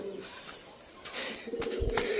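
Pigeons in a loft give soft, low cooing calls at moderate distance, with a faint background hiss and light rustling.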